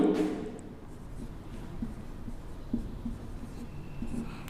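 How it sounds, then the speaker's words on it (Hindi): Chalk or marker scratches across a board in short strokes during a poem lesson, faint and close, with quiet pauses between marks and no speech. "यहां देख लिख रहा हूं आगे"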